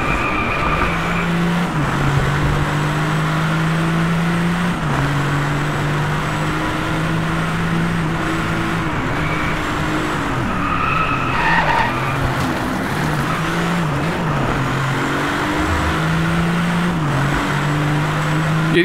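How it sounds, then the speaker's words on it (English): Ferrari F50 engine in the DriveClub racing game, a loud steady exhaust note rising and dropping through gear changes while tires screech and skid through corners, continuous and close throughout. "What we do now is listen to the engines for a little bit."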